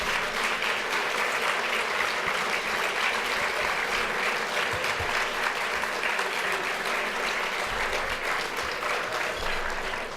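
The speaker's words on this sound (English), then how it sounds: "I'd like to ask the board members who are past and present to please stand for a round of applause" A large crowd at an anniversary celebration gives past and present board members a sustained round of applause, dense and even clapping filling the hall for several seconds.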